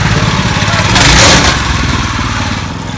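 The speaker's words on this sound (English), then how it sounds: "we're going to do a quick test drive right now" A scratch-built, no-weld go kart's engine runs steadily and loud during a quick test drive, its buzzing mid-range drone swelling briefly near the middle and easing off, with people talking over it.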